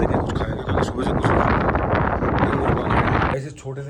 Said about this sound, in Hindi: बहुत ठंडी हवा चल रही है यहाँ पे